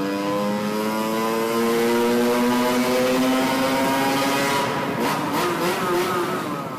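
A Yamaha DT 50 50cc motorcycle engine revs hard and holds a high, buzzing whine that rises then falls away, echoing loudly inside a tunnel.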